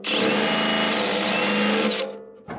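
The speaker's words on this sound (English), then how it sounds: "I'm going to run the drill chuck right into this metal." A power drill whines loudly and steadily for about two seconds, grinding into metal on a diesel-swapped Oliver OC-3 crawler tractor, then stops abruptly before briefly starting again.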